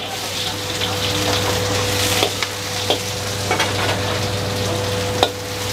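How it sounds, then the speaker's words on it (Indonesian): Onions sauté in oil in a wok with a steady sizzle over a constant background hum, broken by several sharp scraping and tapping utensil strokes. "Terus ini ada bombaynya langsung gua masukin ke dalam kuali."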